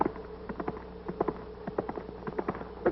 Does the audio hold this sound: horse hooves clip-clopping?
yes